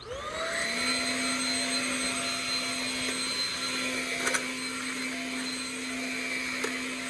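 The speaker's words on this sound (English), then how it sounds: "Quick little thing I'm doing right now is just vacuuming my workspace" A vacuum cleaner runs steadily at close range while tidying a car workspace, clearing dead bugs before fuel filter work on a 1984 Mazda RX7 GSL-SE, with a constant whine and a couple of brief bumps.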